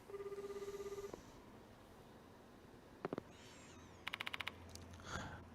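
A telephone rings in the video game Spirit Hunter: Death Mark II, a steady electronic trill for about a second, followed by scattered short beeps and tones from the game, with no talking.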